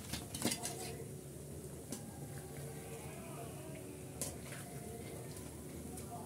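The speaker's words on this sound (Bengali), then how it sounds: "আমি এখন তেল ছড়িয়ে উঠিয়ে নিচ্ছি।" Utensils clink against a pan as fried khaja is lifted out of oil. A few sharp metallic knocks stand out over a low, steady frying sizzle.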